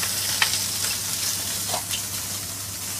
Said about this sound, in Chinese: 煎一煎啲蝦仁先